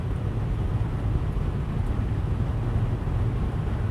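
Cabin of a BMW 535d diesel car cruising at 70 mph: a steady, even low-frequency road and engine drone with a soft wind hiss, constant in level and free of talking.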